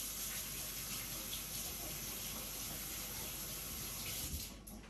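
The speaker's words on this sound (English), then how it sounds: "I'm just gonna wash the glue off my fingers" Tap water runs steadily into a sink while glue is washed off fingers, a continuous close, even splashing rush that eases slightly at the very end.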